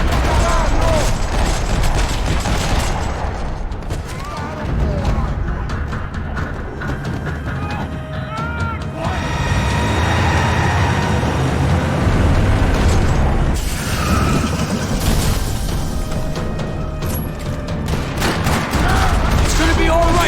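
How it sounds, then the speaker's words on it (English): Bursts of gunfire rattle across a parking lot in the video game Max Payne 3, dense overlapping shots and booms layered with game effects and dialogue in a loud, continuous firefight. "Another parking lot rattling with gunfire."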